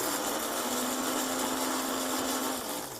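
A blender on its chop setting grinds dry rice into flour, a steady loud whirring roar that holds constant for several seconds and dips slightly near the end, with no talking over it.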